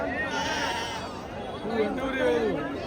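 Sheep bleat repeatedly at a busy livestock market in Honnali, the wavering calls rising over a steady crowd murmur and chatter.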